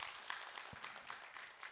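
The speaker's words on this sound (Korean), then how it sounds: "박수로 맞으세요." Soft, scattered applause from an audience at a Buddhist question-and-answer session, faint and somewhat distant, a brief low thump partway through.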